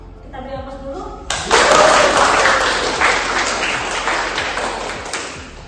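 A university class breaks into applause: after a brief voice at the start, many hands clap together loudly and steadily for several seconds, fading slightly toward the end.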